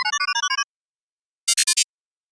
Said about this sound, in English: Here's some robot beeps.